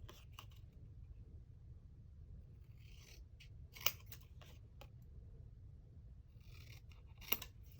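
Scissors cutting paper by hand in a quiet room, with several faint snipping strokes and two sharper clicks standing out.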